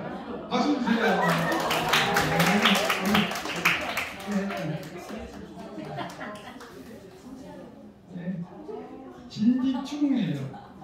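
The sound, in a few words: audience clapping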